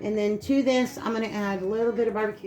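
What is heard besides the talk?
None of the usual background noises is heard.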